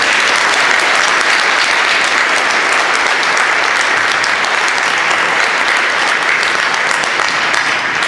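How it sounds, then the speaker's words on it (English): An audience at a closing plenary session of an energy conference applauds a speaker, a loud, even wash of many hands clapping that continues steadily for the whole stretch. "So I ask for a big applause for our excellent speaker."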